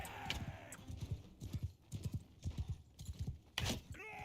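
A horse's hooves clip-clop in a rapid, uneven rhythm in the medieval combat game Mount & Blade 2: Bannerlord, close and clear, with a brief whinny and some sharper game sound effects mixed in.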